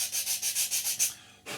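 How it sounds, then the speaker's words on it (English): Repeated strokes of sandpaper on the plastic nose of an Academy F-16I Sufa model kit: about seven quick rhythmic rubs close up, a brief pause, then one more stroke. "sanding off just a little bit on the front here of the nose"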